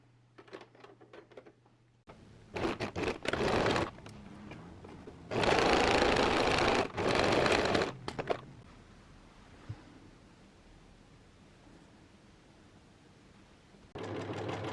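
A sewing machine stitches a pocket seam, starting and finishing with a back tack, in a few short, close bursts of motor hum with brief stops and small clicks between them.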